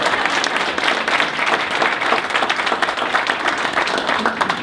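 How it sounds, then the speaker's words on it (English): Audience applause at a nonprofit leadership conference session fills the room with dense, sustained clapping at steady volume throughout, with no individual voices standing out. "We need a round of applause for you."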